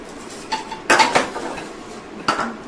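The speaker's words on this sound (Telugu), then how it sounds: "ఇప్పుడు మినపప్పు ఒక స్పూన్ వేసుకుందాము." Spoon clinking against a pan as a spoonful of urad dal goes into hot oil, a few sharp metallic clinks and scrapes with short gaps, close and fairly loud.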